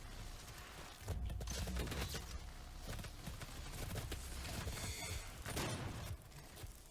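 Weapon fire from the DOOM beta shooter game, a dense, continuous burst of loud gunfire and blasts running through most of the stretch with a busy game soundscape behind it.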